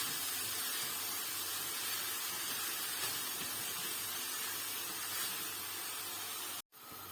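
Grated carrots sauté in a spoonful of butter in a pan with cinnamon, giving a steady, fairly quiet sizzling hiss that runs unbroken before a brief dropout near the end, with no talk.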